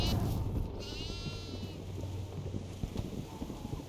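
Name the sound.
goat bleating in the video game Devour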